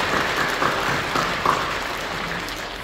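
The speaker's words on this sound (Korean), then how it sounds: "박수를 격려해 주시죠." A church congregation claps during a Korean worship service, a steady sustained round of applause filling the sanctuary for a few seconds.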